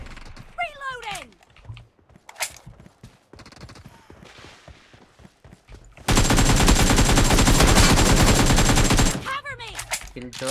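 Video game gunfire crackles loudly in a dense sustained burst of rapid shots, preceded by scattered sounds and voices calling out.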